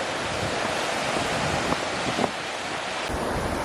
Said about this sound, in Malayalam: കുറേ വെള്ളം ഇങ്ങനെ ഒഴിച്ചിട്ട് ആ സൗണ്ട് നല്ല രസമുണ്ട്